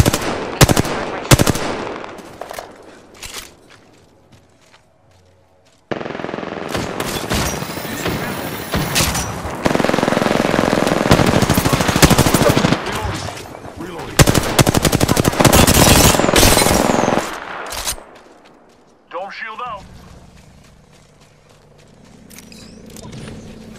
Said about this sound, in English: There's a sniper in the area. Getting shot at.